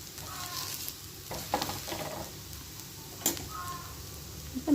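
Adai dosa frying on a hot pan, a quiet continuous sizzle with faint crackles and a few soft scraping touches, birds cawing faintly in the background.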